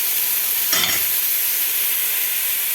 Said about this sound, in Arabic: دلوقتي سامعين ايه، صوت البصل هيبتدي ايه يدبل معايا.